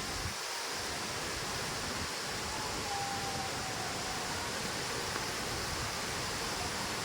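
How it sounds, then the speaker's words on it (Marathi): Ukshi Ranpat waterfall in monsoon rain, a steady broad roar of rushing water that stays constant and fills the scene without pause. "हा धबधबा आहे मित्रांनो"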